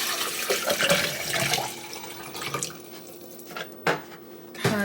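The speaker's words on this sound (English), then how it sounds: "I'm gonna fill up my water bottle." Water poured from a gallon jug into a water bottle in a kitchen, splashing and gurgling unevenly over several seconds, with a couple of sharp clinks or knocks near the end.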